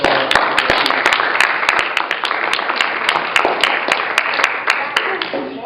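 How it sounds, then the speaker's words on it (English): Dense, steady clapping from a crowd fills the whole stretch, sharp hand claps rising over a continuous wash of applause at fairly close range. "I want to give a round of applause."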